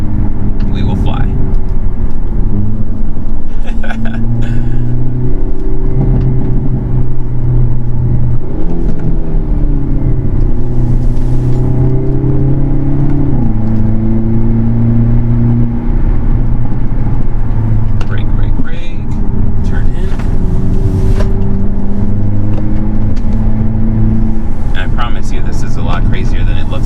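A 2022 Hyundai Elantra N accelerates hard in N mode, its engine loud and close, climbing through gears in repeated rising pulls with short shift breaks, while a person talks over the drone.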